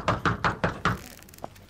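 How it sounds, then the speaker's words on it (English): Five firm, evenly spaced knocks on a wooden door in a comedy radio show, loud and close, followed by a short pause and one faint tap. "Who's that knocking at the door?"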